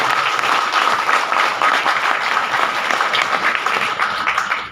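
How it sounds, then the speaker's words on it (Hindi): A large indoor audience claps loudly and steadily at a motivational business seminar, a dense sustained roar of applause filling the whole clip with no talk over it. "तो एक बार हमारी महिलाओं के लिए एक बार ज़बरदस्त जोरदार ताली हो जाए।"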